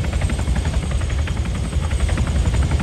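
Helicopter coming in to land in the military game Arma 3, a steady loud rotor thump and engine roar with rapid blade chop throughout, no voices over it.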